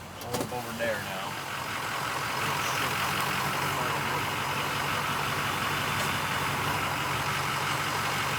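A car with wheel spacers fitted rolls past with a noisy wheel bearing, giving a steady droning hum under engine noise that holds throughout at moderate level, heard at close range.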